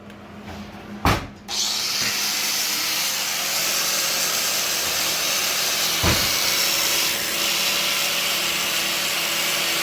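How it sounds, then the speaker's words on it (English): Wire wheel cleaning metal in a small shop, a steady loud whirring scrub that runs almost without a break after a brief knock near the start, with another short thump midway. "Go ahead and wire wheel her off."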